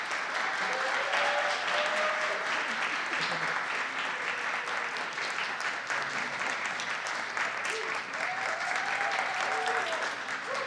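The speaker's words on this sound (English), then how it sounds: "lots of clapping happening in chambers" Clapping fills a city council chamber during a committee meeting, sustained dense applause from many people that lasts about ten seconds. A few faint voices sound beneath it.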